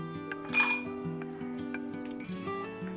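Ice cubes dropping into a glass: one bright clink near the start, followed by a few softer taps, heard under steady background music.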